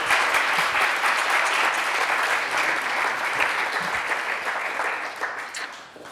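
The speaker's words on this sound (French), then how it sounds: "Je peux l'applaudir." Sustained applause from an audience at a talk, dense rapid clapping that stays loud and even before tapering slightly near the end, with no speech.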